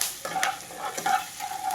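Chopped garlic and green chilli frying in butter in a pan, stirred with a few short scrapes over a steady soft sizzle, close and moderately quiet.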